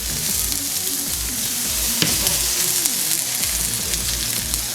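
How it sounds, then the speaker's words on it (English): Garlic fries in hot oil in a pot, a dense, loud, continuous sizzle up close with occasional stirring clinks and scrapes, no voices. "we will make sure that our garlic is nice and brown"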